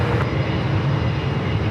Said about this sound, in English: United 28855, RNAV high dive, runway 1 right. Is flying directly above us.